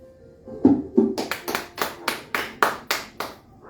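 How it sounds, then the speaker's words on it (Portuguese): A church congregation claps together, the applause starting after a couple of tentative claps and continuing as a steady run of sharp, fairly close hand claps that are loud and not quite in unison, with no talk. "Aplauda o Senhor"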